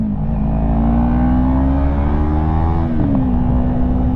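A 2016 Yamaha YZF-R3 motorcycle holds a steady, loud engine hum at highway speed, its pitch climbing slightly before a brief dip, with wind noise underneath.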